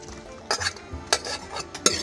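Gobindobhog rice payesh with milk being stirred in a pot: three quick scraping, clinking strokes of a utensil against the pot over a low bubbling background, no talk.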